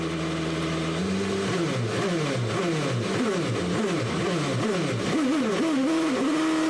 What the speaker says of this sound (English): donut, a little burnout action.